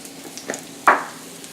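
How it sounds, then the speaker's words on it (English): Garlic dropped into hot oil for stir frying a beef and Hatch chili dish gives a single sudden sizzle burst that fades over a second, with a fainter stir sound just before. "And then go ahead and put your garlic in."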